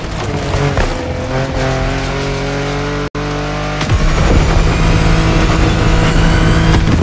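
Car racing downhill at full speed in The Crew Motorfest off-road game, engine roaring loud and steady with tires squealing, a brief dropout midway, then a renewed surge of engine noise.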